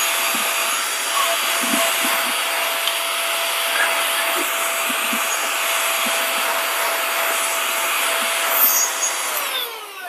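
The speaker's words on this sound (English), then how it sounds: "So right now let me vacuum this mess up" Vacuum cleaner sucking up spilled grounds around a DF64 coffee grinder, a loud steady whine with a constant motor hum and faint knocks of the nozzle, running the whole time and cutting down near the end.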